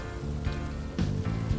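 Steady rain falls on a city street in the Unavowed adventure game, a continuous soft wash of droplets with low background tones underneath and no voices.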